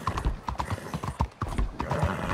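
Horse hooves clip-clop in a steady, fairly loud rhythm in Red Dead Redemption 2 gameplay, the hoofbeats close and continuous across the whole stretch with no talk over them.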